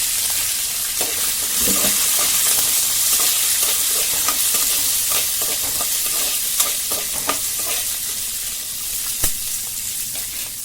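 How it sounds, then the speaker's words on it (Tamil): Dried red chillies, garlic, curry leaves and shallots sautéing in hot oil for a turkey berry chutney give a steady, close sizzle throughout, with scattered clicks and scrapes from stirring and no talk. "வரமிளகா பூண்டு கருவேப்பிலை சின்ன வெங்காயம் இதை போட்டு நல்லா வளர்க்கும்"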